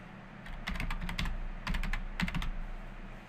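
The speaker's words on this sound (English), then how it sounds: "I'm going to go ahead and type my username." Username being typed on a computer keyboard: several quick bursts of crisp, close key clicks in a quiet room, pausing briefly between groups of keystrokes.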